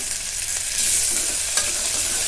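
Onion browned to pink with half a spoon of ginger-garlic paste sizzles steadily in hot oil for a chicken curry, a constant bright frying hiss with a couple of soft stirring scrapes, close and alone.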